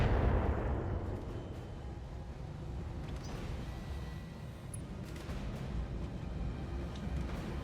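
Incoming weapon fire rumbles in the BattleTech video game, opening with a heavy booming blast that decays into a sustained low roar with faint crackles, loud and steady throughout with no talking.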